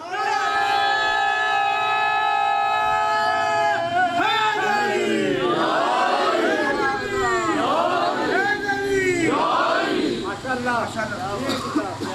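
Crowd at a Muharram majlis chanting a slogan in response, a held tonal call leading into many voices rising together in loud repeated chants and shouts.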